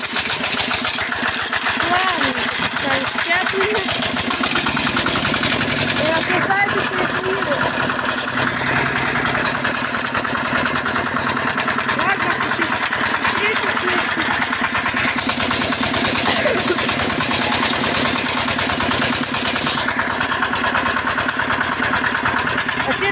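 A walk-behind tractor engine runs loudly and steadily at close range, its throttle eased down, with someone speaking over the continuous mechanical drone.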